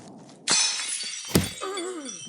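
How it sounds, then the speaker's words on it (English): Glass shatters in a single loud crash followed by a bright tinkling tail, then a sharp second impact and ringing shards, close and isolated. "Otto Medrek heard the sound of shattering glass"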